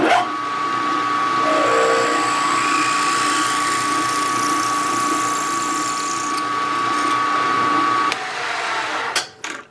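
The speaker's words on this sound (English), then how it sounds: "I'm going to drill it with a 242." A drill runs steadily for about eight seconds, boring a hole with a 242 drill bit on a Stirling engine helicopter build, with a high whine and then a drop as it stops, ending in a few clicks.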